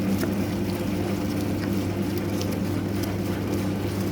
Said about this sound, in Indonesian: mengadon adonan roti. Mesinnya ini sudah umur kurang dari 5 tahun dan masih bagus digunakan.